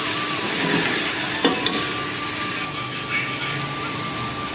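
Potatoes fry in ghee in a home kitchen while aloo keema is cooked, a steady soft sizzle with a couple of brief clicks from utensils and a faint whine running through it.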